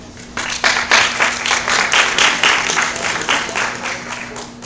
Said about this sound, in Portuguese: Salve de palmas, professor.